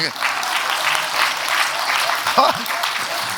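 Church congregation clapping during a Korean sermon, a broad steady patter of many hands filling the room, with a brief voice sound near the end.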